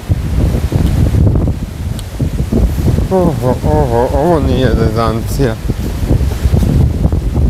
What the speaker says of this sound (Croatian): Pa gledaj, vjetar puše.